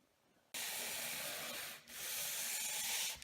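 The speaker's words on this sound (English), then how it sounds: "These sanding blocks are really good" After a brief quiet moment, a steady abrasive rasp of a sanding block lightly sanding wooden kitchen cabinets, with a short pause before the scraping resumes.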